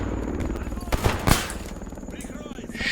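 A short, loud burst of gunshots in the video game S.T.A.L.K.E.R. Escape From Pripyat cracks out near the middle over steady game ambience.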